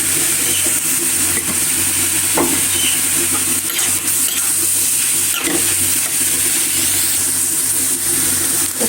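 Vegetable bhaji with magic masala, onion and green chilli being stir-fried in a pan, a steady loud sizzle and hiss with occasional scraping stirs, close and continuous without speech.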